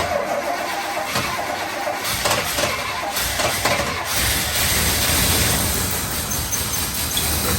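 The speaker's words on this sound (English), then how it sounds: "a tiny bit of gas while you start it" A 1985 Chevy Suburban C20 engine cranks and fires on its first start after a little gas, then settles into a loud, steady, rough mid-pitched running rumble close by for several seconds, with no talking.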